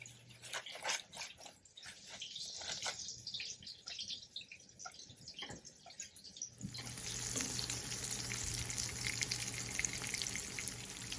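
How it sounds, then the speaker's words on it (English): Breaded pork schnitzel with saltine cracker crumbs goes into hot oil piece by piece, with faint crackles at first before a loud, steady sizzle of frying that lasts to the end. "So now I'm going to take this, 1 piece at a time, lay it into the hot oil."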